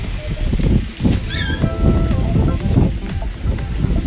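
Ocean waves washing against the shore beside a restaurant in Cebu, a steady loud surf with rushing water and wind buffeting the microphone, plus a brief faint high chirp near the middle.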